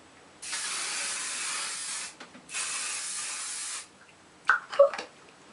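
Two long, steady bursts of aerosol hairspray hiss close up, separated by a short pause, followed by a couple of faint clicks.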